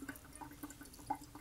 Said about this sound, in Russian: Холодную воду налила.